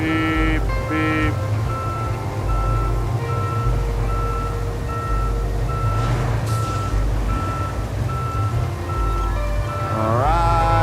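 A heavy truck in RoadCraft backs up with a steady, loud series of evenly paced reversing beeps over a constant diesel engine rumble, with no voices.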